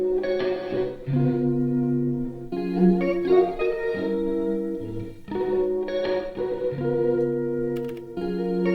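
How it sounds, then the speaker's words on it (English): An Elektron Octatrack sampler plays a synth passage through its dark reverb effect, with glitchy artifacts. Sustained chords and notes stop and start in short phrases, smeared by a lingering wash of reverb and some distortion. No voices are heard. "All the effects work with dark reverb on this one"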